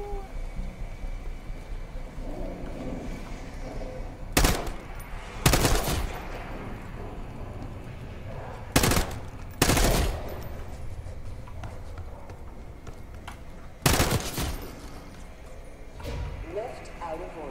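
Gunfire from a weapon in the Call of Duty: Black Ops 6 campaign, with sharp loud bursts near 4.5, 5.5, 9, 10 and 14 seconds over a steady game ambience, and a player talking in between.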